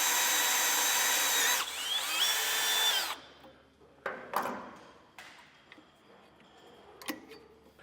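A power drill enlarges a bolt hole during an Air Lift LoadLifter 5000 Ultimate air helper spring install, whining steadily for three seconds with squealing pitch shifts, followed by scattered clanks and short metallic bursts.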